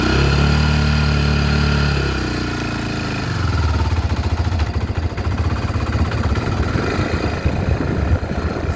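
A Honda 300ex ATV engine idles with a loud, even drone, then drops and settles into a rougher, pulsing putter as it keeps running on its own.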